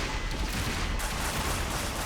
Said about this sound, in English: Ion cannons firing.